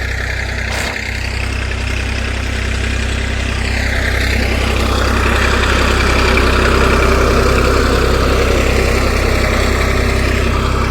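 A farm tractor's engine runs steadily close by, a loud continuous low rumble that holds an even idle and rises slightly toward the end, with no talk.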